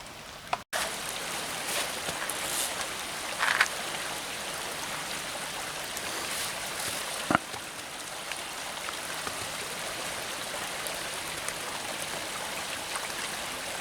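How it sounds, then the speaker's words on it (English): Steady creek water flowing and burbling continuously in the Pennsylvania woods, a soft broadband wash with a couple of brief knocks, no voices. "Nice creek."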